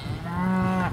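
A cow moos once in a long, loud, close call for its calf while cattle are being moved by a horse herd; the low, steady bellow fills the whole moment.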